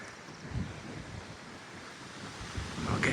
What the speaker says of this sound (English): It is getting quite windy